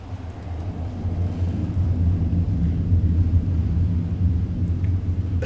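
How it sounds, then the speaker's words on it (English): A storm rumbles in the video game Metal Gear Solid 3: Snake Eater, a loud, steady low roar that holds throughout with no voices over it. "Bad storm."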